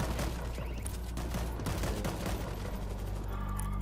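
Mortar fire and gunfire from World War Z keep up a constant dense barrage of booms and shots, loud and continuous throughout, with almost no talking.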